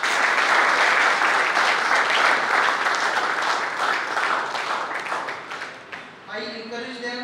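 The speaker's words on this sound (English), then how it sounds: "We welcome them with claps." An audience at a theology college inauguration ceremony claps to welcome new theology students: sustained, dense applause from a large group that gradually thins and fades, then gives way to a voice speaking near the end.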